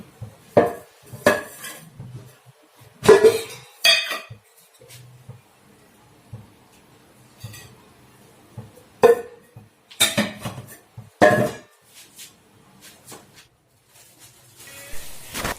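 A spoon or spatula scrapes and clanks against a pan as grated coconut roasts in a little ghee, giving irregular bursts of metallic stirring separated by quieter stretches of faint frying; no voices.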